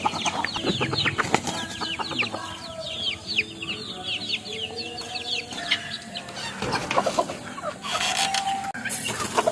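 Backyard chickens cluck busily and continuously close by while feed is tossed to them, with a broody hen and breeding fowl among the flock, occasional wing flaps and a faint crow mixed in.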